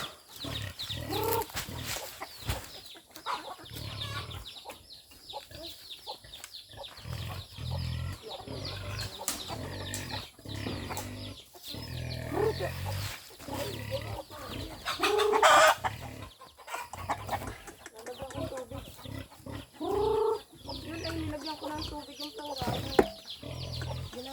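Native chickens in their coop cluck and squawk throughout, some calls close and loud, others in the background. A person's voice comes and goes now and then.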